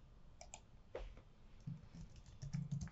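Computer keyboard keys pressed for the Windows key and period shortcut, a handful of quiet, separate clicks and taps close by, spaced irregularly over a few seconds.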